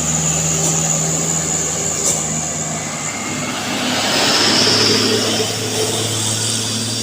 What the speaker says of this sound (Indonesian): Ini dia bosku, Canter bermuatan agak miring ini bosku